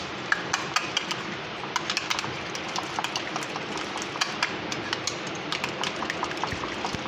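Steady scraping and stirring of a sauce with roasted ground white cumin for a tikka paratha roll, a spoon clicking against the bowl in quick, even taps, close and fairly quiet.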